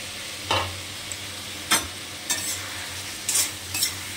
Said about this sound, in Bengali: এবারে এই যে গাঠিটা সেদ্ধ করে রেখেছি, এই গাঠিটা দেবো